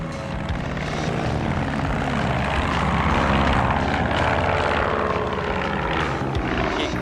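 A propeller aircraft like a Cessna 172 drones loudly and steadily throughout, its engine hum holding constant without breaks.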